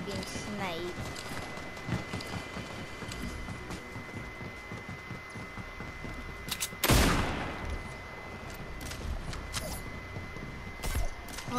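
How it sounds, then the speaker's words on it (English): A sniper rifle shot rings out once partway through a shooter video game match, a loud sharp crack standing out above steady game noise and ongoing talk. "I'm currently being sniped"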